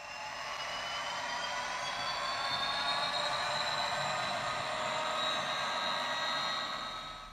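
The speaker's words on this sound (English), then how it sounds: "the latest DCC loco to have DCC sound fitted, which is this class 67" Model class 67 diesel locomotive with DCC sound fitted gives a steady, quiet electronic engine hum with a high whine that slowly rises and falls, continuous with no talking.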